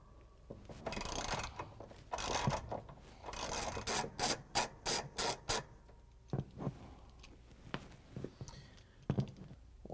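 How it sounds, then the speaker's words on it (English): Ratchet with a 9/16 inch socket and extension loosening the pulley nut on a GE washing machine, bursts of rasping turns followed by a quick series of rhythmic clicking strokes, then scattered metallic taps, close and fairly quiet. "We're going to use the 9 16 inch socket with a ratchet and extension to take it off."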